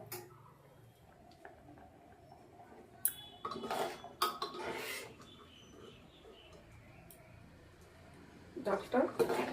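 Lentil dal is stirred in a cooking pot, giving a few short bursts of scraping and clattering against the metal over a low background, with a voice nearby.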